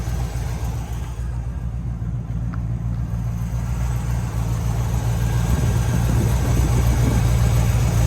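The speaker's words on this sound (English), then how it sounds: "listen to this car. Listen to this exhaust. Exactly how you would want a 1964 Corvette to sound." A 1964 Corvette with headers and MSD ignition idles nearby, its exhaust giving a steady low rumble that grows slightly fuller partway through, with no speech.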